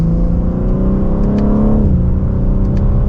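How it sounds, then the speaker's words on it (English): A 2024 BMW M3 CS accelerates in its slowest shift setting, the engine note climbing loud and close inside the cabin, then easing into a smooth upshift and pulling on at a lower pitch. "We'll give it another acceleration."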